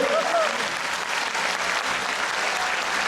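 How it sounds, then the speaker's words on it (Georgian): Sustained audience applause at a grand solo concert by the Georgian ensemble Shevardeni, a dense, steady clatter of many hands clapping throughout, loud and continuous without pause. "სწორედ ასეთი ტაშით უნდა მივულოცოთ ბატონ ზურას"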